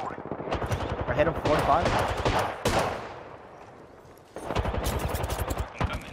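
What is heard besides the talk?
gunfire in a squad shooter video game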